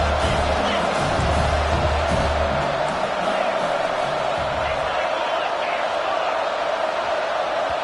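A packed stadium crowd roars at a college football game, a loud sustained wall of cheering that swells early and then holds steady, with a commentator talking over it.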